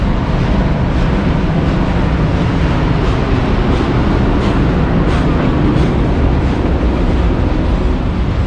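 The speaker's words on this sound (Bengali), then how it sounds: "আমাদের ট্রেন চলে এসছে" Train arriving at a station in Kazakhstan on the Shymkent to Almaty route, a loud, steady broadband rumble and roar that fills the whole stretch without pause.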